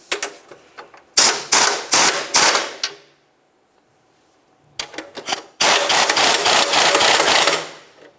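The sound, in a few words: tightening bumper mounting nuts with a 17mm ratchet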